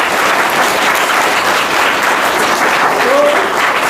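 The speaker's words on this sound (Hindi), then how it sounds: "तालियां" A school quiz-show audience breaks into loud, steady applause after a correct answer, a thick, even wall of clapping lasting about four seconds with a faint voice briefly audible.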